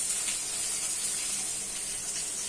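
Pieces of catla fish fry in oil, a steady high sizzling hiss that holds evenly and quietly throughout with no voices.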